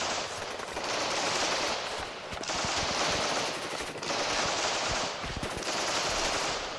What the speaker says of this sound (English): So here we have a pretty intense firefight between the Sonkiet units and the Vetna teams.